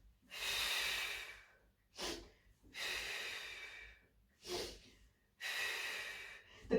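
Close, audible breaths during a Pilates Series of Five exercise: a steady rhythm of five strong inhales and exhales, each a breathy rush separated by short quiet gaps, with no talking.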